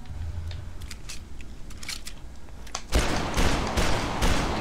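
A heavy pistol fires in the Dead Island video game: scattered faint clicks and taps give way to a sustained, dense burst of loud, crackling shots in rapid succession over the final second and a half.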